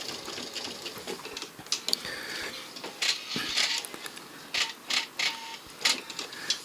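A sewing machine stitches fabric tabs along the edge beside a zipper for a round pouch, giving a close mechanical whirring hum in short bursts with brief pauses between runs.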